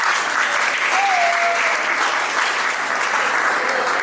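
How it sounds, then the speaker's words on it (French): A crowd claps steadily and continuously, a dense wash of applause at fairly close range with no voices standing out. "Est-ce que vous pouvez applaudir pour eux?"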